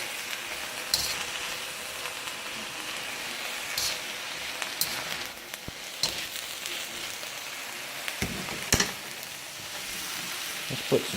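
Cooked spaghetti noodles fry fast in a pan over very high heat, a steady loud hiss and crackle with occasional sharper pops and stirring scrapes, no voices.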